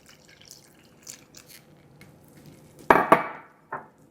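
Milk is poured into cornbread batter in a mixing bowl, heard as a short, close splashy pour followed by a couple of drips in an otherwise quiet kitchen.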